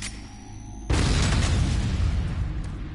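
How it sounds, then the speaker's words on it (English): A grenade blast in the VR shooter Doom 3 VR hits after a brief quiet lead-in, a sudden loud, close, booming explosion whose rumbling roar sustains for about two seconds. "Again, grenades with pink mist."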